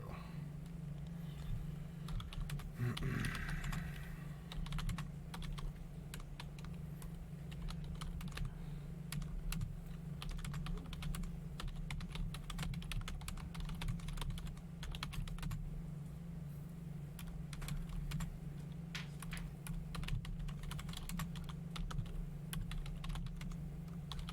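Rapid computer keyboard typing, continuous irregular key clicks over a low steady hum, fairly faint and sustained.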